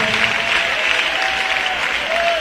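A church congregation claps steadily in a dense, continuous wash of applause that fills the room, with a faint murmur of voices underneath.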